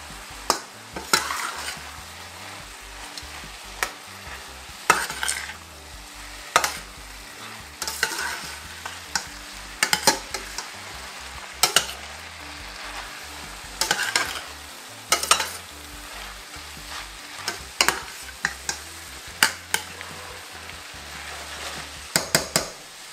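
Red cabbage with flat pasta sizzles and fries in a pan while a utensil stirs it, giving repeated scraping clicks in an irregular rhythm over a constant close sizzle.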